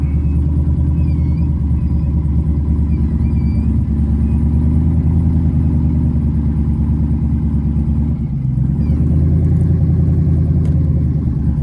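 A rebuilt twin-turbo 5.7 engine idles smoothly and loudly up close, a steady deep rumble with a brief dip near the end before settling back to an even idle.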